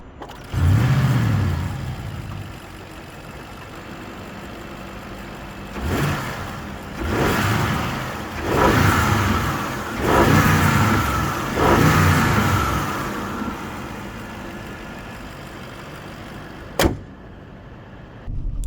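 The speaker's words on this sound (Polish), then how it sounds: "I tak ten silnik brzmi." An Audi RS6 GT 4.0 V8 biturbo engine revs up in a few strong surges, each rising and falling back to idle, with a sharp click near the end.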